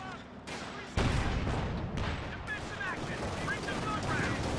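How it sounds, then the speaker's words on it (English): An artillery barrage in the Company of Heroes 2 strategy game, a dense rolling rumble of heavy explosions and crackling gunfire that swells after a sudden blast, with a voice talking over it. "Something got called in there. Major artillery."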